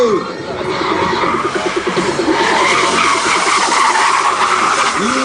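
A BMW drifts at a drift show, its tires skidding and squealing in loud, wavering screeches over engine noise and crowd ambience. Faint voices sit in the background.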